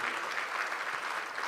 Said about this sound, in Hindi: तालियां जोर से बजाओ